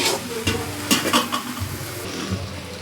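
Maggi noodles are stirred in a hot pan. A spoon scrapes and clinks against the metal in a few quick strokes over a continuous sizzle of frying.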